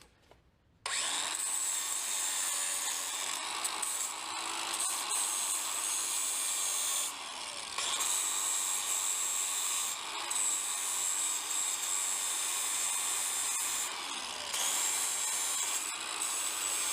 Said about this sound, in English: Let me just hit that with the grinder a little bit.